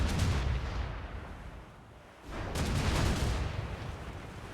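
Ship cannons fire in Assassin's Creed: Rogue during a naval battle, heavy booming blasts with rumbling roar, one volley fading before another loud barrage.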